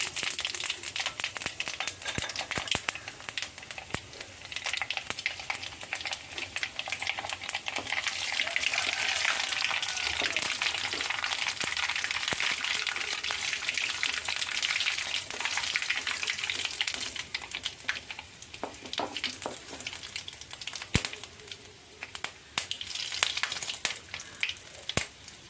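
Mustard seeds, fenugreek, cumin and pepper sizzle in hot oil in a pan with a continuous bright crackle and hiss that swells in the middle, with faint scattered pops and clinks.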